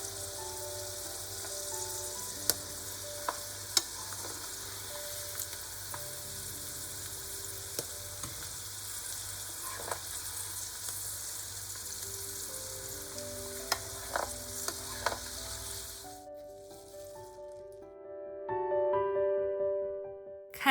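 Corn kernels fry in a pan with a steady, close sizzle and occasional sharp pops and crackles, the sizzling easing off near the end as clinking notes come in.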